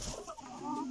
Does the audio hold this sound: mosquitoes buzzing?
no